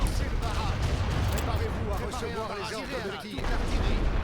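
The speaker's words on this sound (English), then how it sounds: "We'll at least start the artillery barrage, hit some of these guys while they're in the open" Artillery barrage in the World War I strategy game The Great War: Western Front, a dense, continuous rumble of booming shellfire with a voice talking over it throughout.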